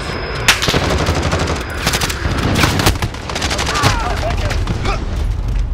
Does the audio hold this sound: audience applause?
no